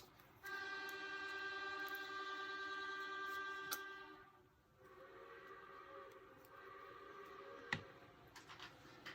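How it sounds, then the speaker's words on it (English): Steam train video playing loudly on a TV in a room: a sustained chord-like steam whistle blast, then rumbling rail noise with clanks and a sharp knock, heard indoors with no talk. "My husband's watching steam train videos and they're rather loud."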